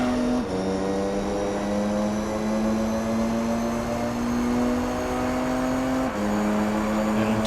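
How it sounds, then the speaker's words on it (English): A race car engine in Gran Turismo 3 droning at high revs down a straight, a steady loud whine that rises slowly, dips briefly at a gear change, then climbs again. "really having to rev it hard there down the front stretch"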